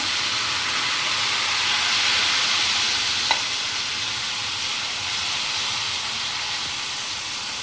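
Ragi batter poured onto a hot tawa sizzles in a steady, even hiss that stays close and fairly loud throughout, with one faint tap partway through and no voices.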